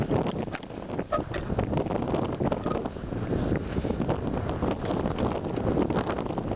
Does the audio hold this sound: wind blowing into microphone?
yes